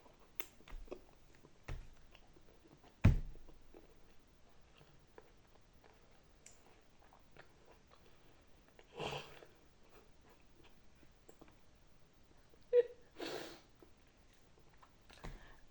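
Peanuts crunched between the teeth in a quiet room, a few sharp isolated crunches spread out over about fifteen seconds, close to the mic and faint between bites, with no talk.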